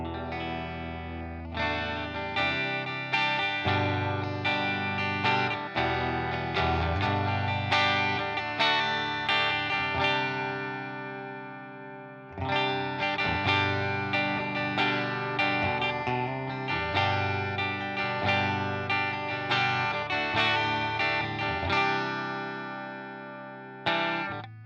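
A Fender Stratocaster Player HSS Plus electric guitar plays a clean tone on the bridge pickup, strummed chords and picked notes ringing in bursts with a brief gap near the middle, close and full, with no talking.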